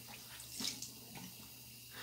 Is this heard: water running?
yes